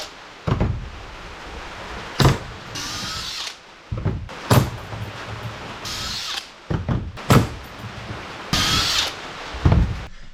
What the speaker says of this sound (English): you can cut a pocket hole anywhere you can clamp onto the wood